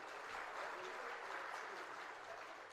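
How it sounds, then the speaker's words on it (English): An audience at an entrepreneurship conference applauds, a dense, steady wash of clapping from many hands that holds evenly throughout, fairly faint and distant. "Ladies and gentlemen, could we have a loud round of applause for them"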